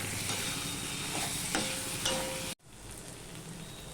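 Spices with a little Kashmiri chili powder sauté in a pan for a fish roe dish, giving a continuous sizzle with stirring noises that briefly cuts out midway, then resumes a bit softer.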